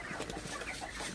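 Broiler chickens suffering from a mild cold cluck steadily in a poultry shed, a dense, close flock murmur with overlapping calls and no talking.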